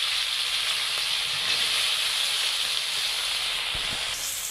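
Potatoes sizzle in hot oil, a steady, hissing wash of frying noise that stays even and close for several seconds, with a soft low thump near the end.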